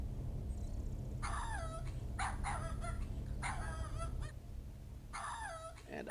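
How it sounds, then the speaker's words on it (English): A dog in King's Quest 7 barks in short repeated bursts, several barks in clusters, over a steady low background hum. "Yeah, we still have barking."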